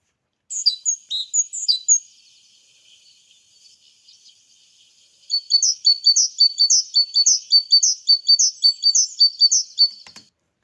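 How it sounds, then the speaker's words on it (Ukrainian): Recorded tit song: a short run of bright, high, repeated chirps, a quiet pause, then a longer rapid series of loud, evenly spaced chirping notes, close and clear with nothing else behind it. "Давайте послухаємо ще раз, як говорить синичка."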